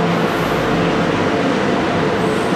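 Duronto Express pulling into Dhanbad station, a steady loud rumble of rolling coaches and rail noise filling the whole stretch without letup.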